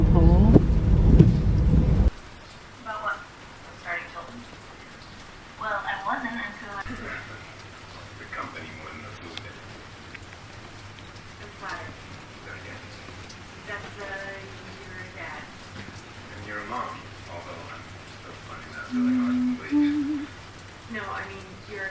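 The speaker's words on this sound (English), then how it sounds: "Another fucking downpour." Heavy rain pours down steadily in the background, a constant wash of noise under two people chatting throughout.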